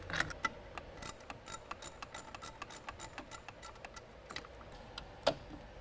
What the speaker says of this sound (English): I've got a 10 millimeter wrench. I'm going to go ahead and start to remove that bolt right now to get that unplugged.